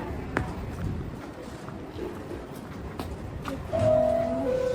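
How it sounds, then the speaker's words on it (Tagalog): A New York City subway train pulls into an underground station with a steady rolling rumble and faint clatter, then high squealing brake tones rise near the end as the train slows. "Ay, ayan na yung train."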